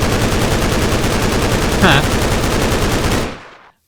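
Rapid automatic gunfire from a weapon in the Scorched Guns 2 Minecraft mod, a loud, continuous burst of dense shots lasting about three seconds before cutting off abruptly.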